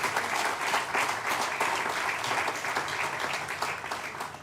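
An audience at a city State of the City address breaks into sustained applause, a dense, even wash of many hands clapping together that stays loud and steady throughout.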